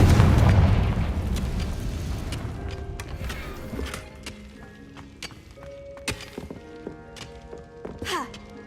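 A Confringo fire spell explodes in Hogwarts Legacy, a heavy rumbling boom up front that decays into debris clatter, mechanical clicks and scattered sharp impacts.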